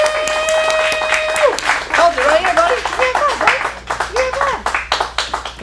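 A studio audience applauds after a kids' scripted acting scene at an acting studio in Phoenix. The clapping is loud and dense, with someone talking and cheering over it.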